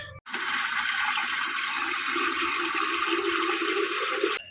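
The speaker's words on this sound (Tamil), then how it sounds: "இப்போ நம்ம வந்து தண்ணி எடுக்க வந்தாச்சு" Water runs steadily from a tap into a container in a home setting during a morning routine, a continuous close gushing stream lasting several seconds before stopping abruptly, with no talk.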